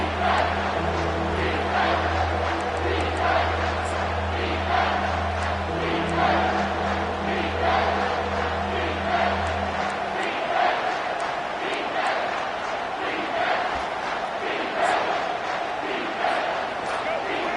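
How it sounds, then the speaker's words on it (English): Large football stadium crowd at a college game roaring steadily during a defensive timeout, a dense continuous wash of cheering and yelling with a low droning hum under the first ten seconds. "This crowd knows they have to bring it in big moments, and one of those has arrived."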